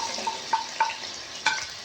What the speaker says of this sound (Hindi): और इसे मैं 2 से 3 मिनट अच्छे तरीके से फ्राई करूँगा